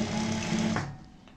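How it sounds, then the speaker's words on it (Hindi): Sewing machine stitching the collar of a high-neck kurti: a loud, steady motor hum with rapid needle chatter runs for about a second, then stops. "और इसी तरीके से हम यहाँ पे सेंटर का ध्यान रखते हुए सिलाई लगाते जाएंगे।"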